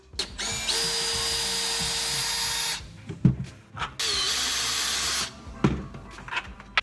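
Power drill backing flathead screws out of kitchen cabinets during a tear-out, two sustained whirring bursts of about two and four seconds with brief clatter and handling knocks between and after, close and loud.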